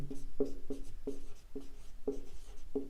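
A pen scratches on paper in a steady rhythm while a determinant expansion is written out, six short strokes close and clear with quiet room tone between them.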